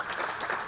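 Brief patter of applause from the crowd at a snooker match at the 2024 German Masters, faint and distant, a soft wash of clapping hands.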